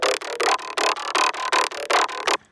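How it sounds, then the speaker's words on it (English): Vocoded bass carries the melody in a Balkan rave (Yugotechno) track, a buzzy, gritty synth voice pulsing in short chopped bursts, about a dozen loud rhythmic hits in a bouncy pattern before cutting off. "I vocoded the bass actually and made it like this"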